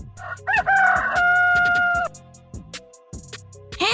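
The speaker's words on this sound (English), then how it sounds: "Rooster." A rooster gives one loud, close cock-a-doodle-doo lasting about a second and a half, followed by a few softer clucks and scattered clicks.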